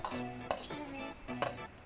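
Spaghetti tossed with holy basil in a wok pulled off the heat, heard as quiet metallic scrapes and clinks of a utensil against the pan, with a few sharper knocks and a faint hum underneath.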